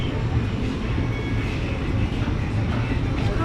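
A train pulls into Dahapara station on the line to Azimganj, giving a loud, steady rumble of wheels and carriages that holds throughout with no break.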